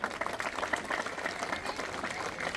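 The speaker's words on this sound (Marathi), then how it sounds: "एकदा सगळ्या विद्यार्थ्यांना, बालमित्रांना मी त्यांच्यासाठी जोरदार टाळ्या वाजवायसाठी" Schoolchildren clap together at a school event in a dense, steady patter of many hands that carries on throughout, fairly faint and heard from some distance.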